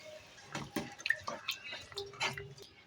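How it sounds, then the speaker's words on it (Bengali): A little water poured from a small bowl into a pan of chicken rezala, heard as faint, brief splashes and drips close by, with no talk over them. "জল দিয়ে দিচ্ছি।"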